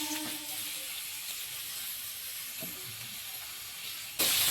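Chopped onion and carrot frying in hot oil in a wok, a steady broadband sizzle held throughout at moderate level, brightening and louder in the final half second.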